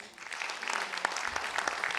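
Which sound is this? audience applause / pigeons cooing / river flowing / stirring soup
audience applause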